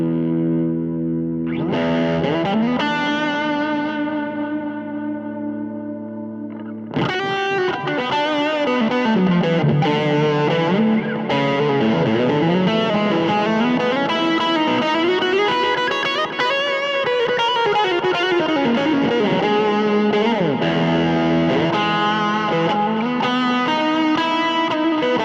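An electric guitar runs through a neural amp sim of a single-channel clean amp on a Mod Dwarf, with sustained chords and shimmering modulated notes ringing continuously and loudly. A fuller strummed section swells in after a sparse opening.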